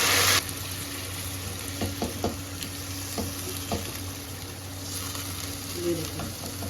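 Marinated pasanday meat sizzling in a pan with browned onions, a steady frying hiss carrying on throughout, punctuated by light stirring clicks, with faint background voices.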